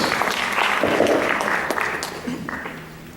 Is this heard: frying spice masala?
no